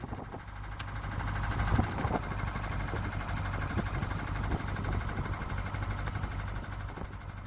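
A canal narrowboat's engine runs hard on the Lancaster Canal near the Glasson flight, a loud, steady droning throb with a rough, knocking vibration that holds without letting up.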